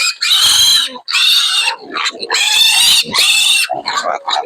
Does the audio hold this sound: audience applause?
no